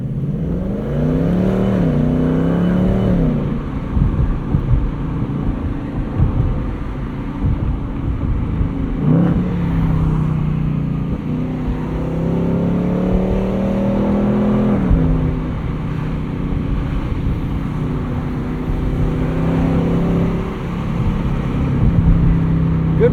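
Inside a 2024 Ford Mustang Dark Horse while it is driven, the engine gives deep, loud revs that rise sharply on several rev-matched downshifts over a steady engine drone and road noise.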